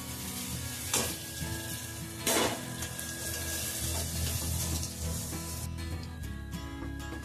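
Ground turmeric, chili, coriander, cumin and pepper powders with salt are stirred and fried in a pan, giving a quiet, continuous sizzle with a couple of scraping spoon strokes.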